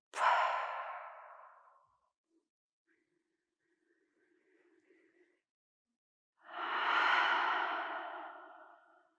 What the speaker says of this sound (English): whatever this day has brought you, just exhale it out right now.